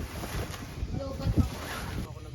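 Outdoor wind buffeting steadily by the sea at a resort in Calatagan, Batangas, with low rumbling gusts and faint voices murmuring in the background.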